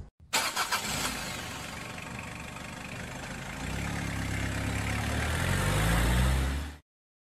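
A car engine starts and then idles steadily, the sound rising into a heavier rumble before cutting off abruptly, as a sound effect in a Resident Evil audio drama set in Raccoon City.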